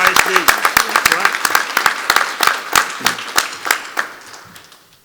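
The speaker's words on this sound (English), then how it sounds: "let's give them one more round of applause" An audience at a school district board meeting claps, dense and lively applause close by that thins out and fades toward the end, with a voice speaking over it.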